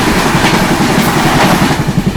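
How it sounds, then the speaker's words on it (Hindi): The Mahanagari Superfast Express from Banaras to Chhatrapati Shivaji Maharaj Terminus rushes past at a crossing, a loud, close rhythmic clatter of wheels and wagons with rushing wind. "अभी थोड़ी देर में अपनी क्रॉसिंग होने वाली है Banaras Chhatrapati Shivaji Maharaj terminus Mahanagari superfast express के साथ"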